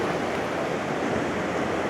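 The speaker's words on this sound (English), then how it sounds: "the waves are coming in beautifully" Ocean waves roll onto the Welsh coast at dusk in autumn, a continuous, even wash of surf with no voices.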